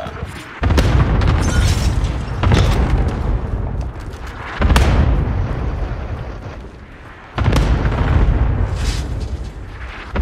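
Helicopter explosions in a multiplayer shooter game, several heavy booms with rumbling tails spaced a couple of seconds apart, loud and close.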